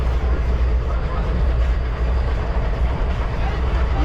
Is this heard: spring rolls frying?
no